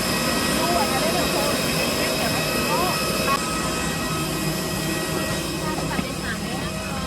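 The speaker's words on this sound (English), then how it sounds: "why are these engines so loud?" AirAsia Airbus A320-216 jet engines running, a loud steady whine and roar heard from inside the cabin, continuous with tonal hum throughout.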